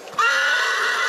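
A horse gives a single loud, close whinny lasting about a second, with nothing else heard around it.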